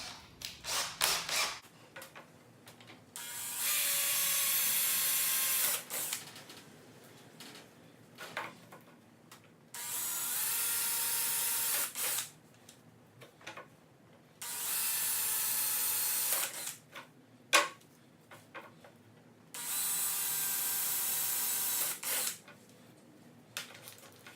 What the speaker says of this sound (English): you want to drill with a 1/4-inch drill bit. Go ahead and chuck that up and drill it out